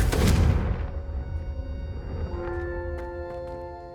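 Confringo fire spell cast in the Hogwarts Legacy video game: a loud booming blast at the start that rolls off into a fading rumble with lingering magical ringing tones.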